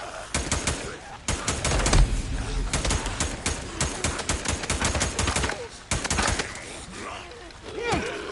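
Rapid gunfire from Days Gone fills the space in dense bursts of sharp shots, with short pauses between volleys and a few louder cracks near the end; someone talks faintly underneath.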